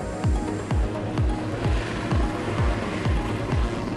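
A Bell 412 helicopter of the Sûreté du Québec with its turbine engine running, giving a rhythmic series of deep whooshing pulses about twice per second over a constant mechanical rumble.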